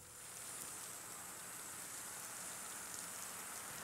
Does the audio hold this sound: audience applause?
no